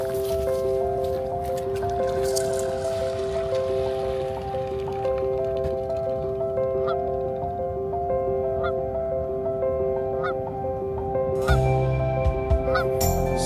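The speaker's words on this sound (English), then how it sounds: "Spooked the birds" Geese at ponds honk in short, scattered calls over a steady droning hum, with a louder flurry of honks and rustling near the end.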